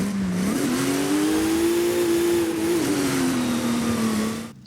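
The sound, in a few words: 722 car engine revving in video game Forza Horizon 5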